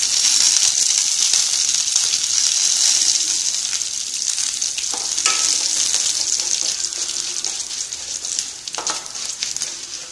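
Black pepper and coriander seeds dry-roasting in a pan for manathakkali keerai chutney, a bright steady hiss with occasional scraping stirs, close and fairly loud, no voices.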